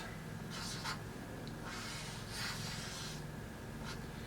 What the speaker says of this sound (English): I'm going to write down my prediction